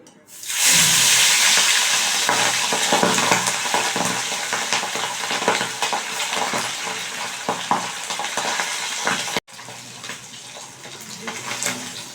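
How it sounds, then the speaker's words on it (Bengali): Pabda fish frying in hot oil gives a loud, close, continuous sizzle with scattered spits and pops. It starts abruptly and runs throughout, briefly cutting off near the end before resuming a little quieter. "মাছগুলোকে আমি একটু হালকা করে ভেজে নেব"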